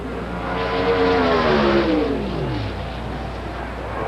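Drag racing cars at the 1985 World Finals running full out, a loud steady engine roar with a rising then falling pitch as the cars pass, heard alone without talk.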